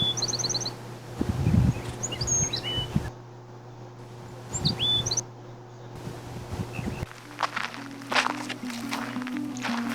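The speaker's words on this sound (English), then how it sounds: "And here's a bird." Birdsong on a hiking trail, with short high chirps and whistles in several bursts over rustling and crunching footsteps, and a steady low hum underneath.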